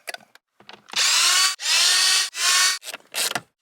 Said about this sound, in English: So we need to take off 4 screws, and this cover will come right off.